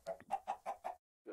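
Chickens in the Minecraft FTB Stoneblock 3 modpack give a quick series of about five rhythmic clucks, then a pause and one last cluck, close and clear with no talk.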